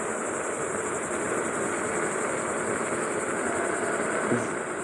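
A Rictor Ace electric scooter riding downhill at full throttle, a continuous loud whirring drone mixed with rushing wind and road rumble, steady throughout.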